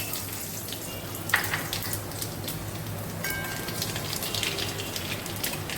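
Dried red chilies and nigella seeds sizzle in hot oil, a steady close hiss with fine crackling pops running throughout, no voices.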